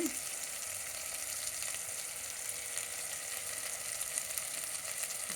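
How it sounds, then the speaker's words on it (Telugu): Mutton pieces fry in a pan, giving an even, continuous, fairly soft sizzling hiss throughout with no speech over it. "మాంసం కూడా మటన్ కూడా బాగా వేగిందన్నమాట"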